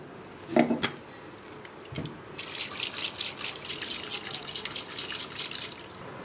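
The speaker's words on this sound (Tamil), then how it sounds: "இப்போ இந்த மாதிரி கொஞ்சம் நல்லா ஹாட் வாட்டர் ஊற்றிக்கோங்க" Hot water pours into a container, which is then shaken and sloshed, giving a close, splashy rush of water after a couple of brief knocks, with no talking.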